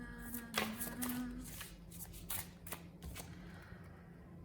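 Tarot-style soul lesson cards are shuffled close to the microphone in quick, soft riffles and slaps. The rapid papery bursts stay fairly quiet, with no talking.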